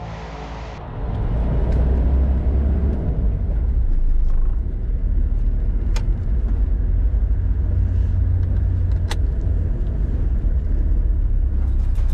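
A vehicle driving on a road in southern Brazil, near the coast, gives a steady low engine and road rumble that holds throughout at a constant, fairly loud level after a brief quieter start.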